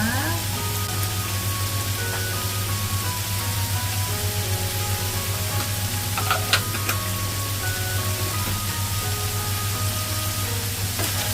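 Dried fish (tuyo) frying in a pan for a corn and moringa soup, a steady, even sizzle with faint crackles running throughout, a low constant hum beneath and a brief clink of utensils midway.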